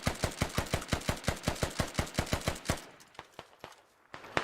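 Rapid automatic gunfire in the tactical shooter Squad: a fast, even burst of about a dozen sharp shots, then a few scattered single shots after a pause, fairly close.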